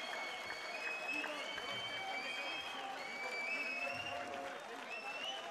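An arena crowd at a fight night event applauds after a fighting bout, a steady, moderately distant clapping that carries on throughout under a commentator's voice.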